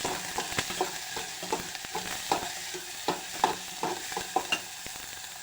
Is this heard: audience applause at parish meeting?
no